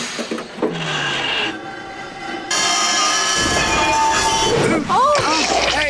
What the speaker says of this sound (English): Hadji, stop the train